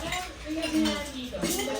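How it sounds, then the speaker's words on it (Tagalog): Dishes and cutlery clink and clatter at close range as dishes are washed, with a few soft voices talking in the background. "Hugas ng pinggan."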